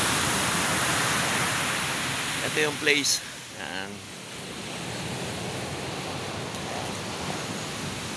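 Surf from the sea behind a rest house in Pasuquin, Ilocos Norte, forms a steady broad wash of wave noise, with a person briefly speaking over it midway.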